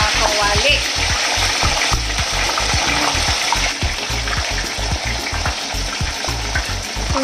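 A very large fish frying in a pan too small to hold it, a loud steady oily sizzle with crackling bursts and a low rhythmic bubbling pulse throughout, no speech.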